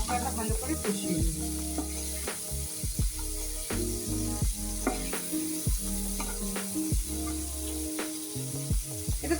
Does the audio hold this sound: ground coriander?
yes